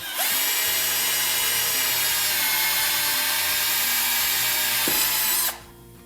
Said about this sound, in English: take your hole saw, make sure that you clear the thread and the seal